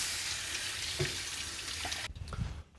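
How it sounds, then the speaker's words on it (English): Water runs from a kitchen tap into a sink while raw chicken is rinsed under it, a steady hiss that cuts off abruptly near the end, followed by a few faint splashes and drips. "I'm gonna wash this chicken."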